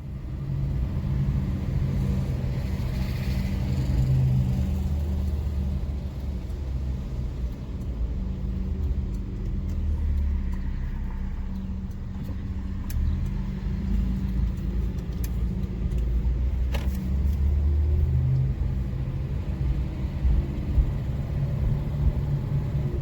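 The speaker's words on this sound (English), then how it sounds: "I just want to share with you the first drive on the open road with this W108." A classic Mercedes W108 sedan, just mechanically restored, cruises on an open road, its engine a steady low rumble under wind and road noise from inside the cabin, continuous with mild swells as speed changes.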